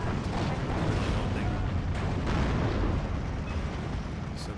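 Artillery shells from a 65 mm gun firing about 12 rounds a minute explode in a forest battle in the game Steel Division 2, with repeated heavy booms and rumbling blasts over continuous low battle noise.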